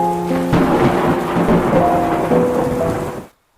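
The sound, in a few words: rain after the sky had cleared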